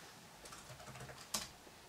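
Keys tapped on a computer keyboard while entering the ipconfig command into a command prompt, a short run of faint, quiet clicks ending in one sharper, louder keystroke like a final Enter press.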